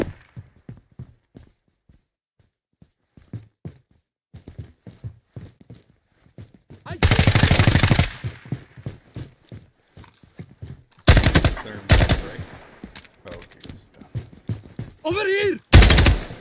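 A belt-fed machine gun firing in the tactical shooter Ground Branch: loud, dense bursts roughly a second long, several times, with quieter clicks and footsteps between them and people talking.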